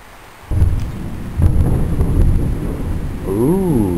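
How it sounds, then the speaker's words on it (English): A deep thunder rumble rolls in suddenly and stays loud, booming and swelling outdoors, with a sharper crack partway through and a wavering whistle-like tone rising and falling near the end. "Ooh, thunder boomers."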